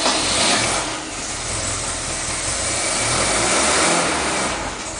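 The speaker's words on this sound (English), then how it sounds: "Right, it's lumpy tick over now, but that lumpy tick over is just the distributor." A Ford Pinto engine idles with a rough, lumpy tick over caused by the distributor, a steady close rumble with slight surges, and no talking.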